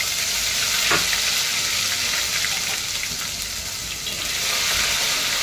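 Garlic and green chili paste frying in hot oil with cumin and asafoetida, a steady loud sizzle with a brief stir near the start, continuous throughout.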